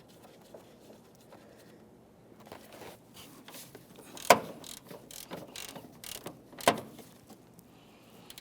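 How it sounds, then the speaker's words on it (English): A ratchet tightening transmission mount bolts on a 2003-2007 Honda Accord, giving quiet clicking runs with a few sharper clicks, close by in an otherwise quiet space. "We'll bottom each of these bolts out and then torque them to 33 foot-pounds."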